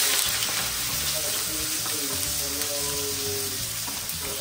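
Onion and garlic fry in hot oil for pancit palabok, a loud, continuous close sizzle with a low steady hum beneath it.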